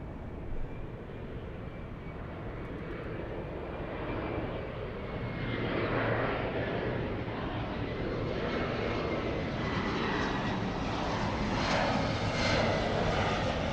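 A jet airliner's engines run at an airport during a takeoff-clearance exchange, a steady broad roar that builds slightly and holds loud and continuous, with no talk over it.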